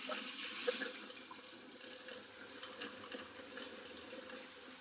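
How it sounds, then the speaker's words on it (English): Water runs steadily through a toilet supply valve as the tank fills, a soft continuous hiss and trickle at low level with no talking. "we just turn on the valve, make sure the water isn't going to leak."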